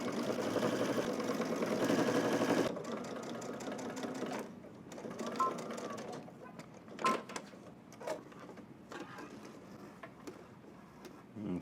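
A sewing machine top stitches twill tape onto a zipper hoodie, running in a steady whirring burst at first, then continuing in shorter, quieter stitching runs with pauses between them.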